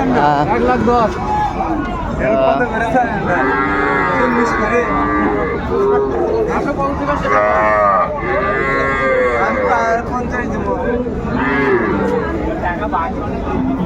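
Several cattle, young bulls and heifer calves, moo loudly and repeatedly amid the chatter of a busy crowd at a cattle market in Narayanganj, their drawn-out calls overlapping the voices.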